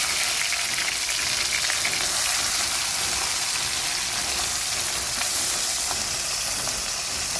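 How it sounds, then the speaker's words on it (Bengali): Fish sizzling in hot oil in a pan, a steady dense frying hiss that runs unbroken and fairly loud throughout, with faint crackles and no voices. "এবার আস্তে আস্তে ভেজে নেব।"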